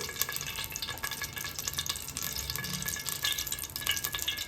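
Oil poured into a hot pan for a country chicken curry, giving a steady close sizzle with light liquid splashing and stirring noise, moderately loud and continuous, no voices.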